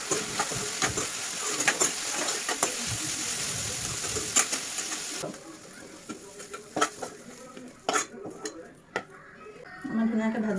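Food fries in oil with turmeric and salt, a steady sizzle broken by sharp scrapes and taps of stirring, with someone talking over the cooking.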